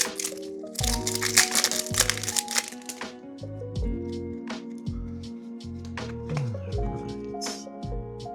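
Football trading card packs torn open close to the mic: sharp crinkling and ripping of foil wrappers in bursts, with crackling handling noise and short clicks between tears.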